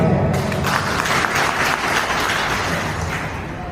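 Audience at a live Gujarati comedy show breaks into loud, sustained applause, a dense wash of many hands clapping that holds steady throughout and eases only slightly toward the end.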